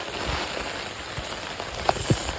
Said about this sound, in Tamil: செம்ம மழை